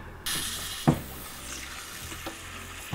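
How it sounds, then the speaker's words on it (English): Water drains from a plumbing pipe during a barndominium toilet installation, with a quiet trickling hiss and a few soft knocks and splashes. No one speaks. "Now we need to release the pressure and drain whatever water's in that pipe."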